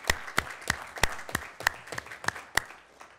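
One person claps at a city council meeting: about ten crisp, evenly spaced claps at a steady moderate pace, close and distinct against a quiet room.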